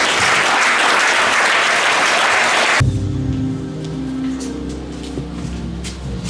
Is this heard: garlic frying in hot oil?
no